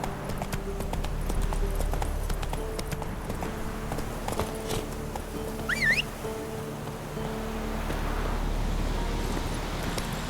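Hooves of the horse Roach clip-clopping at a galloping pace in a steady rhythm, moderately near, over a low background rumble with a brief high squeal partway through.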